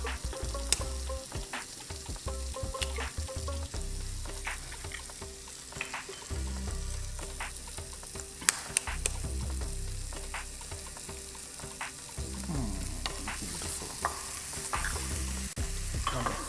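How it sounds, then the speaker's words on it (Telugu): Eggs being beaten for a plum and parsley omelet, a steady run of quick whisking and stirring strokes close by, with sizzling from a hot pan underneath and no talking. "అందులో ఎగ్స్ బీట్ చేసేసుకుందామా ఈ సాఫ్ట్ అయ్యేసరికి?"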